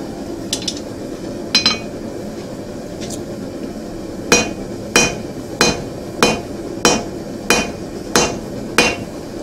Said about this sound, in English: So I'm using a very old rounding hammer.